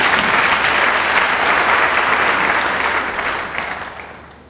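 A church congregation at the Église de Nyangono applauds loudly and steadily in a dense, sustained wash of clapping that fades near the end.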